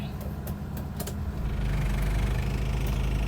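An automatic Ford Aspire runs close by with a low, steady engine rumble that grows heavier and louder about halfway through, as if revving, with no talk.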